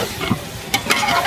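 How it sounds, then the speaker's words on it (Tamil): Chicken pieces sautéed in a hot pan with ginger-garlic paste for a chicken uppu kari, a short burst of sizzling broken by a couple of scraping stirs. "சிக்கனையும் போட்டு நல்லா வதக்குறாங்க"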